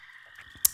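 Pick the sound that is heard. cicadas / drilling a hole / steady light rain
cicadas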